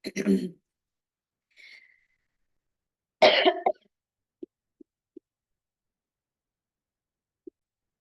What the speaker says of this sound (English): had a coughing fit